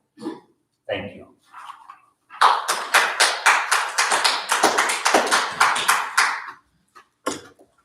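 A short run of quick, evenly spaced hand claps from one or a few people at a school board meeting after a public comment, lasting a few seconds, with brief sounds before and a lone tap at the end.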